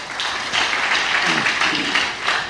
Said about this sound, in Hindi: सबके लिए ताली बजाओ।